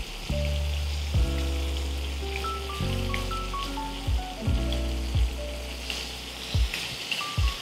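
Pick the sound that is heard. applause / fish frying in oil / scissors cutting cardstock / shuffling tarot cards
fish frying in oil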